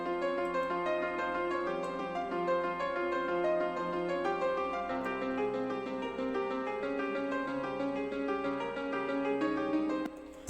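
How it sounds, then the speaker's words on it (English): Nexus Piano Nebula preset playing a sustained, layered melody for a Detroit-style beat, rich bright chords ringing continuously and loud, with a brief change partway through and no voices. "we got this piano from Nexus. It's the Piano Nebula."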